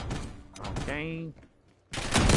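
Bursts of rapid gunfire from Call of Duty Black Ops 6 crackle close and loud, with a short pause between volleys and a person speaking over the shooting.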